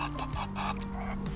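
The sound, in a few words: waterfowl calling while being fed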